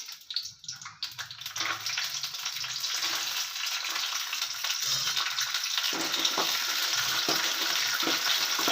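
Peanuts drop into hot oil in a pan and burst into a loud, steady sizzle that holds close and unbroken to the end, after a few brief clinks at the start.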